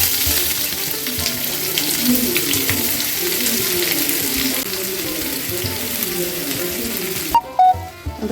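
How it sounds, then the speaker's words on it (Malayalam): Two large onions sizzle and fry in hot coconut oil, a steady crackling hiss with occasional stirring, then a short clatter near the end, faint talk underneath. "വെളിച്ചെണ്ണ ചൂടായപ്പോൾ ഞാനിവിടെ ഒരു 2 വലിയ സവാളയാണ് എടുത്തേക്കണത്. അതിട്ട് കൊടുക്കുന്നുണ്ട്."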